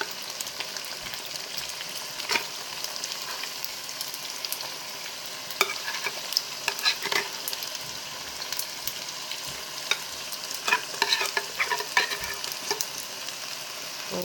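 Macaroni and canned stewed meat are stirred and fried in a pan. A continuous sizzle runs underneath irregular scraping and clattering strokes from the stirring utensil. The sound is close up, with no voices.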